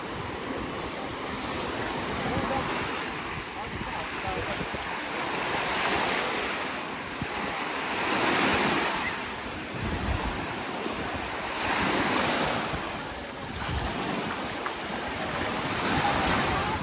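Waves washing ashore at Ladies Beach in Kusadasi, Turkey, a steady surf roar that swells and recedes in slow surges, mixed with wind buffeting the microphone and no clear talk.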